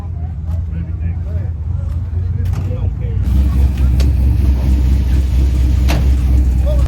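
At a Myrtle Beach car show, the engine of a rat rod rumbles low and steady beside the listener, growing louder about halfway through, while people talk nearby.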